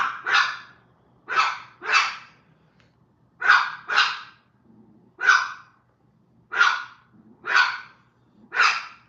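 A dog barks in short, sharp bursts, about ten barks in uneven pairs and singles, fairly close and clear against an otherwise quiet room.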